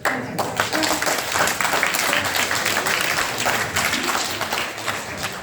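An audience at a US congressional town hall meeting bursts into loud, sustained applause, many hands clapping together with some crowd voices mixed in, fading slightly toward the end.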